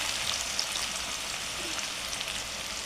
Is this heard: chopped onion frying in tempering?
yes